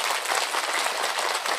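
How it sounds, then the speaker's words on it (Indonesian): Applause from a gathered audience at a humorous religious sermon, a dense, steady wash of many hands clapping together, fairly loud and continuous with no voices over it. "tepuk tangan untuk orang Cidamar"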